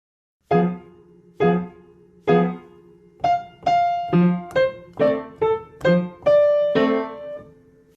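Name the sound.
piano ragtime played with both hands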